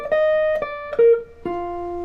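Jazz blues lick on guitar: five clean single notes picked one after another, each ringing briefly before the next, moving through root, third, fourth and fifth, close and clear with no talking.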